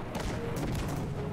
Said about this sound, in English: there goes a little bit of explosions.